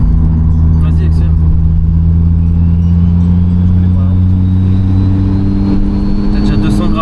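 A tuned Audi fitted with a Porsche engine pulls hard in third gear, its loud, steady drone rising in pitch through the run, close-up with voices talking over it.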